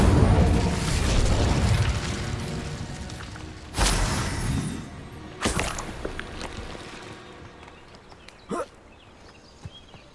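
An Incendio fire spell goes off in the video game Hogwarts Legacy with a loud, roaring burst of flame that fades out. Several sharp blasts and pops follow at intervals, and no one talks.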